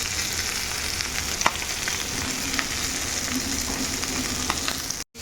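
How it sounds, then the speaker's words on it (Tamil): Fish fries in hot oil with curry leaves, giving a steady, close hiss with scattered small pops that runs the whole time and cuts off abruptly at the end. No one speaks. "இது இந்த மாதிரி ஃப்ரை ஆகிட்டு இருக்கும்போது இதுக்கு மேலே கொஞ்சம் கருவேப்பிலை அப்படியே ஸ்டைலுக்கு"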